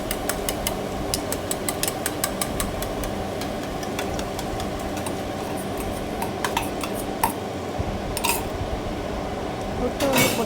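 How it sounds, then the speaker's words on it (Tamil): Rapid metallic ticking of two eggs being whisked in a bowl for idiyappam biryani, a steady clatter of fork or spoon strikes over a continuous sizzling kitchen background. "ஸோ நல்லா வந்து முட்டையை பீட் பண்ணிட்டு இந்த சேர்த்துக்கலாம்"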